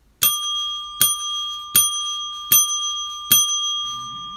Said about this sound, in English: That's a 5 bell ringer there for Haley Deegan Fan 1990